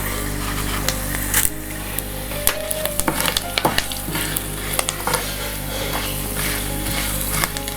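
Chana dal and urad dal tempering in hot oil with curry leaves for curry leaf chutney, a crackling sizzle with sharp pops and spatters, a faint hum running underneath, no speech.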